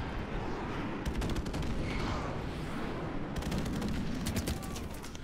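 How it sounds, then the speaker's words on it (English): Explosions and heavy gunfire from an airstrike in Call of Duty 4: Modern Warfare Remastered, a dense continuous barrage of booms and rattling shots that stays loud for the whole stretch, with sharper bursts near the start and end. "Now he's got a fucking airstrike."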